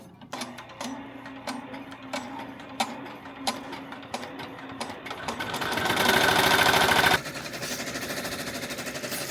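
A Brother PRO X PR1055X embroidery machine starts stitching, a rapid mechanical rattle with regular clicks that builds to a louder, denser whir midway, then settles into a steady, close running hum.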